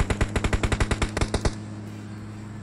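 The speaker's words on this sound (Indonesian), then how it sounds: "Etik memberi tembakan kepada PTM" A rapid burst of about fifteen automatic gunshots in PUBG Mobile, in quick, even rhythm, loud and close, followed by a faint lingering background hum.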